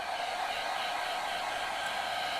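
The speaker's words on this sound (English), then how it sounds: "I'm going to hit this with a hairdryer" A hair dryer blows in a steady, even hiss throughout, close by and unbroken.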